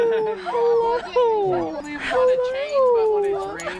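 Several sled dogs and puppies in Alaska whimper, yip and howl with rising and falling whines close by, continuous through the clip while a person speaks over them.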